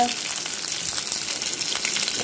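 Fish frying in a pan for lunch, a steady, close hiss of hot oil that holds at an even level with no voice.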